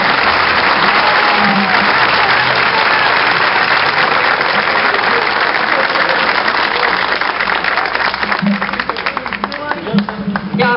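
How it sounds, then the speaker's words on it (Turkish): Strong, sustained applause from a crowd at an opening ceremony, sending off the departing deputy chairman; dense, loud clapping fills the whole stretch, thinning slightly toward the end with faint voices beneath. "Güçlü bir alkışla onu aramızdan uğurlarız."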